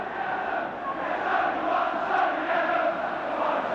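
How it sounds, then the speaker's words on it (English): Liverpool football crowd at Anfield roaring in reaction during a title-deciding match against Arsenal, a dense, steady wall of massed voices and chanting that swells slightly midway and holds loud throughout. "And the Liverpool crowd pounced on it."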